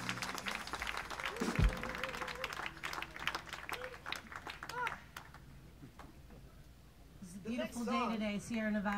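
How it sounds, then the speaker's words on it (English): Applause and clapping from a live audience at the Sierra Nevada World Music Festival, mixed with someone speaking over a PA, crowd noise, and musical tones near the end. "Give yourself a round of applause again."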